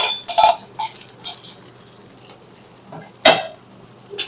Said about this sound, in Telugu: నూనె బాగా గరం అయినాక ఇది బాగా కలపాలి.